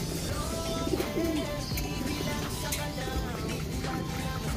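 Racing pigeons give several soft, repeated coos over a constant background rumble, fairly faint and not far off.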